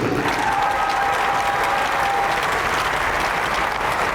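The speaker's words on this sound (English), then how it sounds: "Let's have a little bit of noise for Canadian defenseman Justin Haché." Loud, sustained applause and cheering from an ice hockey crowd greeting a defenseman during a team player introduction, a dense unbroken wash of clapping with no talk over it.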